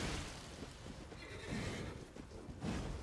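A horse whinnies during a boss fight in a video game, a loud drawn-out neigh rising over a dense backdrop of game sound effects and music, with no speech.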